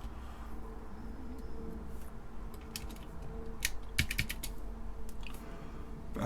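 Keys clatter on a TeleVideo TVI-912C terminal keyboard during testing after reassembly. The clicks are scattered and uneven, close and fairly quiet over a low steady hum, with a few quick bursts of keystrokes.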